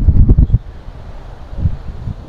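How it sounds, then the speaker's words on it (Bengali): Strong wind buffets the microphone on Kuakata beach in Bangladesh, booming low gusts at the start easing to a steady rush, then swelling briefly again. "এই জায়গায় আসলে প্রচুর বাতাস এবং অনেক সুন্দর ওয়েদার।"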